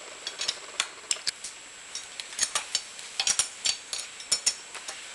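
A socket ratchet clicks in quick uneven bursts while loosening the cylinder bolts on a 2-stroke dirtbike top end, crisp close metallic ticks alone with no talking.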